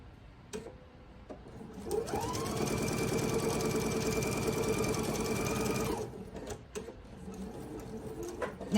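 A sewing machine stitching quilt blocks together in a chain, with a steady fast mechanical whirring run of about four seconds between quieter handling sounds before and after.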